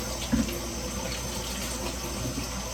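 Tap water runs steadily into a sink, rinsing out a bowl with hot water, a continuous close splashing and gurgling with a small clunk near the start; no voices.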